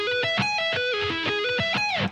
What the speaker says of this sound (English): There is a kind of major version of that, which does sound like this.